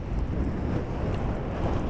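Strong wind whips across Lunan beach and drives blowing sand, making a dense, steady roar with low buffeting close to the microphone.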